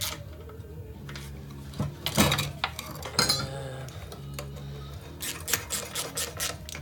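Metallic clinks and ratcheting clicks as bolts are tightened on an old flat-head Briggs and Stratton 5 hp engine, close, irregular taps and rattles in short clusters.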